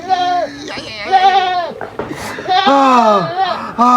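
A goat bleats loudly several times in quick succession, wavering cries close by with brief gaps between them, in a comedy drama scene.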